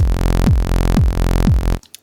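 A pumping electronic loop: four punchy kick drums about half a second apart, a sustained saw synth ducking after each hit through sidechain compression, then an abrupt cut to near silence.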